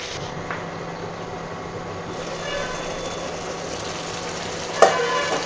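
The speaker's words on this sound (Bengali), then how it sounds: "এবার একটু নুন হলুদ দিয়ে লাউটাকে একটু ঢেকে দেবো নেড়ে চেড়ে।" Bottle gourd fries in a pan with salt and turmeric as it is stirred, a soft continuous sizzle with a clatter near the end, and a faint voice may be present.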